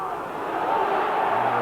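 Football stadium crowd cheering as an attacker makes a run on goal in a UEFA Cup third-round match between Liverpool and Swarovski, a steady, loud, swelling roar of many distant voices.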